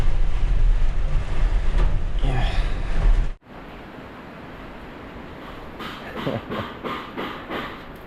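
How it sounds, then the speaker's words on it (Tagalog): Heavy rain pours at a construction site as a loud, steady hiss that cuts out abruptly partway and then resumes more softly, with faint voices in the background. "Sobrang lakas ng ulan eh."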